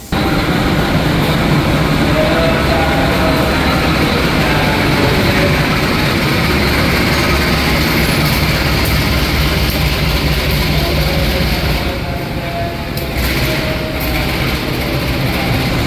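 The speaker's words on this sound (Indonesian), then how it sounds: "yang baru masuk di jalur 1 stasiun Lempuyangan ini merupakan kereta api Pasundan dari Surabaya Gubeng dengan tujuan akhir Kiara Condong, Bandung" Pasundan passenger train pulling into track 1 at Lempuyangan station, a loud, sustained low rumble and rolling rail noise filling the platform, with a brief dip in intensity near the end.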